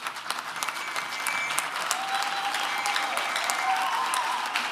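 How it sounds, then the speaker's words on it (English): Parents, family and academics applaud graduates at a university graduation ceremony in a large hall, a broad, continuous wash of clapping from many hands, loud and sustained across the whole stretch. "academics, a round of applause."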